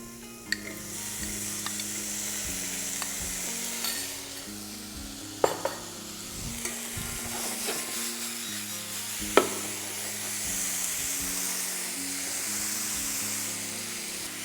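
Onion and spices stirred in a hot pan for a tadka dressing give a steady sizzle with occasional scraping clicks, plus a few sharper knocks of the spoon against the pan, close up and without talk.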